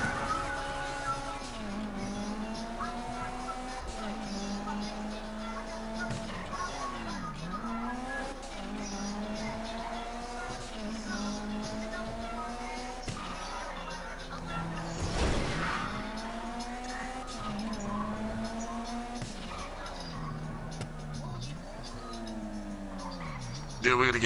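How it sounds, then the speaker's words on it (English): Cars in a video game race and skid, with repeated tire squeals and revving engines sweeping up and down over a steady roar of traffic, while people talk over the gameplay. "almost got ran over by your car"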